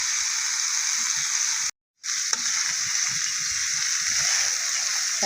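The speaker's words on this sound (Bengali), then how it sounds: "এখন কচুরলতিটা দিয়ে দিব, এটা দিয়ে একটু কষাবো।" Taro stolons hiss and sizzle steadily in hot oil with spices as they are stir-fried, a loud continuous frying sound broken by a brief silent gap and a few soft clinks.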